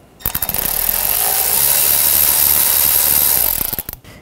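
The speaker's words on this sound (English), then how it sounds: "Loosen up this worm clamp right here. I'm going to use a 7 millimeter socket." A ratchet with a 7 mm socket loosening a worm clamp during O2 sensor replacement on a 2013-2019 Ford Escape, a loud, close, rapid buzzing ratchet clicking that runs steadily for about three seconds.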